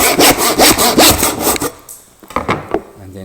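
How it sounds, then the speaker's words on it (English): A tenon saw cuts wood held against a bench hook in rapid, loud, rhythmic rasping strokes up close. The strokes stop, then a few scattered knocks and scrapes follow. "We'll then get our bench hook and we'll cut off that end waist."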